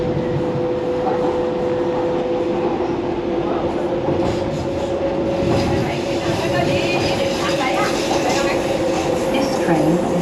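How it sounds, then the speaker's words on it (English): A DLR train rides toward Woolwich Arsenal near London City Airport, with a continuous rumble and steady motor hum inside the carriage, wheels clattering softly throughout and a voice audible partway through. "This train is for Woolwich Arsenal."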